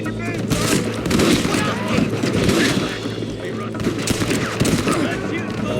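Red Dead Redemption gunfire in a heated frontier shootout, with repeated shots and bursts layered over a busy, loud mix and shouting voices.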